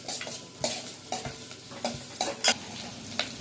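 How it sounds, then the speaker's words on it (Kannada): Onion, garlic and green chilies frying in oil while being stirred: a crackling sizzle punctuated by repeated clinks and scrapes of a spoon against the pan, close and alone without speech. "ಇವಾಗ ಎಣ್ಣೆ, ಈರುಳ್ಳಿ, ಬೆಳ್ಳುಳ್ಳಿ ಮತ್ತು ಹೊಣಮೆಣ್ಸಿನ್ಕಾಯಿ ಹಾಕ್ಕೊಂಡು ಫ್ರೈ ಮಾಡ್ತಾ ಇದ್ದೀರಾ"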